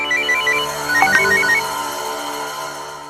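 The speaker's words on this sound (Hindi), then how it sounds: "और अब विनायक फोन लगाता है खुद अनी को जानकारी लेने के लिए" A phone ringtone plays a bright repeating melodic pattern over a sustained background tone, moderately loud and close.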